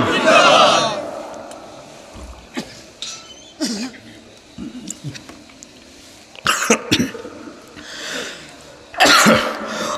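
A gathered crowd at a religious sermon shouts back in loud collective bursts, at the start and again near the end, with quieter stretches of murmurs and coughs between them.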